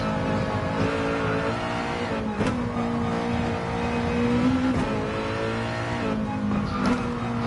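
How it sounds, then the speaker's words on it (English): A Mazda touring race car in a racing video game drones steadily at high revs around Dragon Trail Gardens, with brief shifts and dips in engine pitch, loud and continuous throughout. "If you don't abuse the steering, you'll find this to be a phenomenal car to drive."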